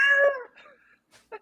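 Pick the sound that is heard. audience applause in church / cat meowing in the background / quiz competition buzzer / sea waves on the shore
cat meowing in the background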